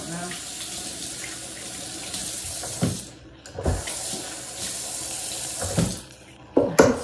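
Tap water runs into a sink while hands are washed free of grease, a steady close hiss broken by a few louder splashes and clatters, with brief bits of talking mixed in.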